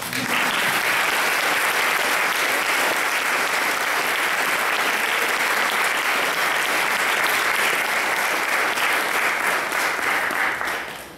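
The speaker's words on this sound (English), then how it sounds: "Now give a big applause to all of us." Sustained audience applause at a Tilak ceremony, steady and dense clapping from a large crowd filling the whole stretch without a break, fading slightly at the very end.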